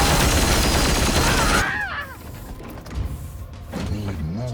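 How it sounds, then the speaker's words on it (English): A scatter shot shotgun blast in Warhammer 40K Chaos Gate Daemonhunters roars loud and dense for over a second, then breaks off into quieter rattling, whooshing effects and a short trailing burst. "I can do scatter shot here"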